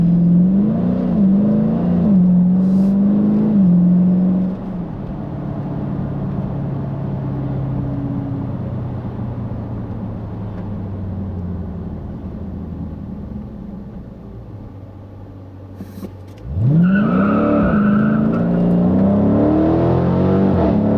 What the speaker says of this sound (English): I love the exhaust on this car